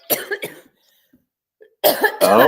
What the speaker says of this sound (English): she got the coughs